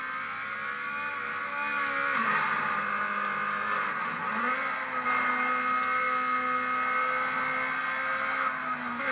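A racing car engine in Need for Speed Underground drones loudly and steadily, the pitch rising and shifting as the car accelerates through gears, with no talking over it.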